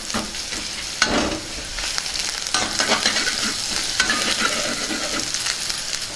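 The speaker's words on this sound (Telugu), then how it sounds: "ఇప్పుడు కొద్దిగా అల్లం వెల్లుల్లి పేస్ట్ వేసుకుందాం. వీటిని కూడా బాగా వేయించుకుందాం." Ginger garlic paste fries with onions in a pan, a close, steady sizzle broken by scraping stirs, with no talk.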